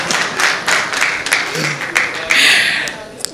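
Applause from a church gathering, a broad wash of clapping running throughout and swelling near the end, with a voice talking over it.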